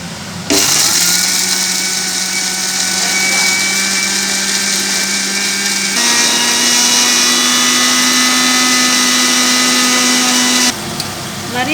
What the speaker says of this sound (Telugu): అది మగ్గేలోపు ఇది మిక్సీ పట్టుకుందాం.